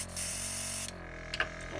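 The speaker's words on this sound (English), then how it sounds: "I'm gonna spray it at a lower speed because I don't want to cover too much" An airbrush or spray gun hisses paint onto an old swimbait fishing lure in a steady close spray of just under a second, then stops, leaving faint clicks and handling noises.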